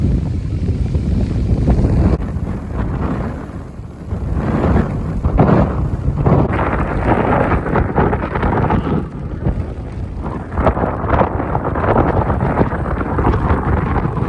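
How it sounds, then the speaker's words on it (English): Strong wind roars across the microphone on a hilltop walk at Mount Famine, South Head, for the whole stretch, gusting and easing in uneven waves with no talking. "Yeah, it's pretty windy here now."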